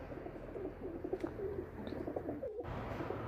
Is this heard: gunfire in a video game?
no